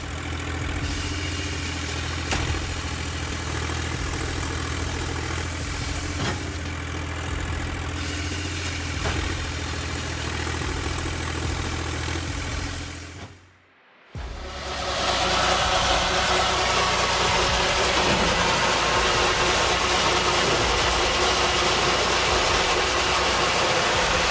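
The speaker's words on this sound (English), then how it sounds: "This machine isn't your regular chainsaw, it's a V8 beast" A V8-powered chainsaw roars steadily with a harsh mechanical rattle, cuts out for a moment, then returns louder and fuller.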